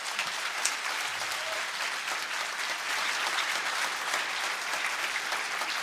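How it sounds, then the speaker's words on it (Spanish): A large audience at a theological debate applauds steadily for about six seconds in a dense, even wash of clapping, with no voices rising above it. "Ese aplauso más grande para el Señor."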